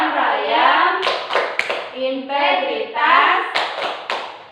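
Elementary schoolchildren in a classroom chant together while clapping in sharp rhythmic bursts, several group claps punctuating the sung words.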